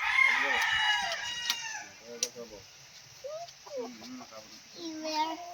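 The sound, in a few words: chickens clucking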